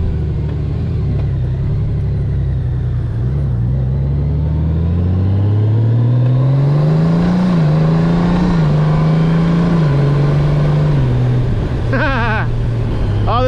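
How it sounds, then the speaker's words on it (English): A motorcycle is ridden along a curving road, its engine droning close by and its pitch climbing and dropping as the rider accelerates and eases off, over steady wind rush. "this bike is so much fun to ride"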